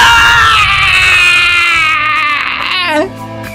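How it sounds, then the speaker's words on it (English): Sena, a character in the video game Shin Hayarigami 2, lets out a long, loud, high-pitched scream that wavers and holds for about three seconds before breaking off into a shaky, falling cry. "Sena's screams echo through the silence of the night"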